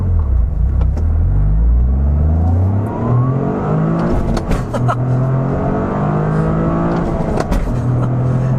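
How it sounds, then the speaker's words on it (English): A turbocharged 2023 Toyota GR Corolla with all-wheel drive and a manual gearbox roars as it accelerates hard from 0 to 60 on a straight road, the pitch climbing through several gear shifts, loud and close. "let's do a 0 to 60 run"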